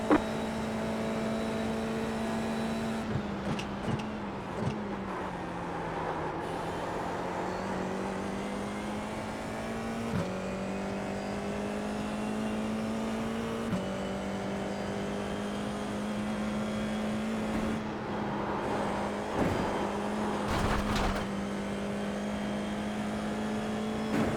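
A Formula 4 race car's engine drones steadily on track at Summit Point Raceway, holding a high whine that dips and climbs through gear changes and braking, loud and continuous with no talk.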